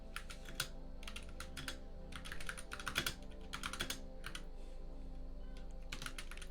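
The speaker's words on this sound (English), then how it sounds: "I'm gonna hear some of this typing ASMR." Quiet, close-up typing on a computer keyboard for ASMR, with irregular bursts of soft key clicks separated by short pauses over a faint steady background hum.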